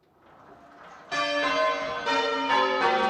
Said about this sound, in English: There won't be any noise at all from the bells, and they sound beautiful.